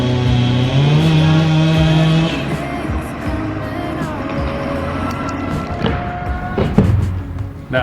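A chainsaw cuts into a tree at a campground. It whines at high revs for about two seconds, then drops to a lower, rougher running note with intermittent clatter, loud and close.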